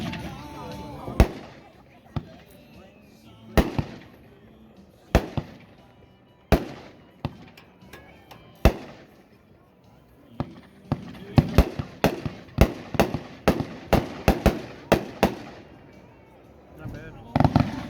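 Consumer fireworks item, the World Class Reign Supreme cake, firing at a backyard demo in Aiken, SC: a long irregular series of sharp loud bangs and crackling bursts, sparse at first then rapid, with people talking in the background.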